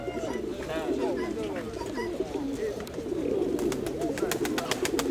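Pigeons coo at a pigeon and bird fair in Severodonetsk, repeated throaty calls rolling under nearby conversation and crowd murmur, with a burst of sharp clicking near the end.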